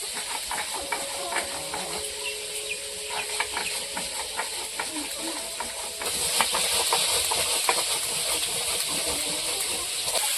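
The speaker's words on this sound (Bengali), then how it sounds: "এবার আমরা জিরে আর সর্ষেটা বেটে নেবো" Steady whirring grind with a hissing, rattling texture running throughout, growing louder and harsher partway through, as cumin and mustard seeds are crushed in a mixer jar.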